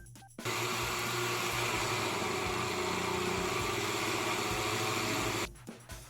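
A blender motor whirs loudly for about five seconds, grinding peanuts with a rough, churning buzz, then cuts off abruptly.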